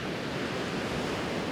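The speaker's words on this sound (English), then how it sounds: "Quite a natural beach, although it's a bit rough today" Rough surf rolls onto a natural beach at Padangbai, Bali, a steady close wash of breaking waves with some wind across the microphone and no voices.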